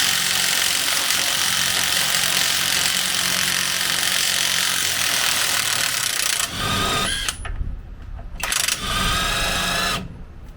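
The engine of a 1985 Ford F150 spins over in a continuous, loud mechanical whir lasting several seconds, then cuts out and restarts in short uneven bursts toward the end.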